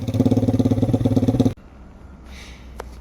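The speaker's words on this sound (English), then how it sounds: "I'm about to take it for a test ride, see how this tune is, and yeah, go from there. It's just gonna be a loud test ride." Lifan KP Mini 300 motorcycle with a 4-valve ZS175FMN engine and custom exhaust runs loud and close with a fast pulsing beat for about a second and a half, then cuts off abruptly to quiet background.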